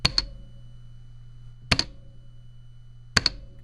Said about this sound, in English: the keyboard will talk back to me with a resonating ping